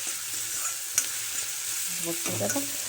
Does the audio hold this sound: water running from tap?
no